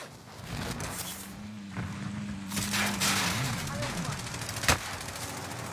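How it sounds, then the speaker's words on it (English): Gunfire crackles in a Call of Duty Warzone match on the Caldera map, steady shots and bursts under someone talking, with one sharp loud crack near the end. "These guys are shooting at me so hard"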